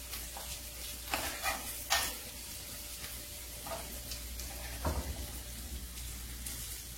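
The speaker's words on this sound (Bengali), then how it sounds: "ভালো করে সব ভেজে নেব।" Ginger and broken dried red chilies fry in a pan for a lentil breakfast snack, giving a steady close sizzle broken by several sharp stirring scrapes, with no talking.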